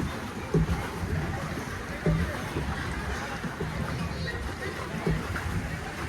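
Water sloshes and laps steadily around a small pedal boat out on the water. Faint knocks from the pedalling recur every second or so beneath the wash.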